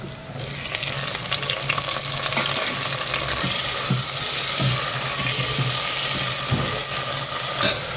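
Onion, curry leaves and tomato frying in a pan for egg kuzhambu give a steady, dense sizzle close by, with soft intermittent stirring knocks throughout and no voices.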